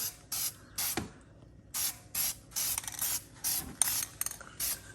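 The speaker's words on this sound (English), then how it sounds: "you want to do light spritzes, and you want to do light sprays as you pass" A rattle can of high heat paint sprays onto brake calipers in about ten short, light bursts, each a close hiss separated by brief pauses, with a faint clack of the can.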